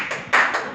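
A short burst of applause from an audience at a talk on the history of the Rathore clan, a few quick claps with no voices over them.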